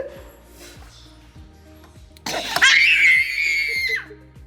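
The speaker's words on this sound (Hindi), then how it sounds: "कितनी तेज चिल्ला रही है भाई।" A young girl lets out a loud, sustained high-pitched scream lasting over a second, preceded by quieter giggly laughter in a family setting while playing over grapes.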